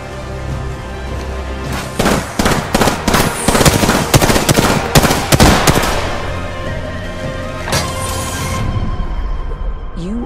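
Rapid gunfire crackles through an Apex Legends match, a dense string of sharp close shots fired in bursts for several seconds, then a scattered trailing shot and a brief whooshing burst over steady background game ambience.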